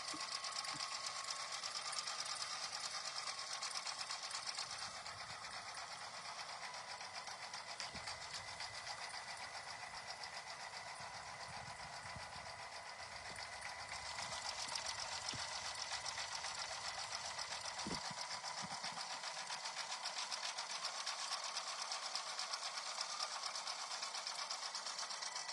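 A sewing machine stitches a large mug rug piece, giving a steady fast whirring hum that runs the whole time, fairly quiet and close, with no talking.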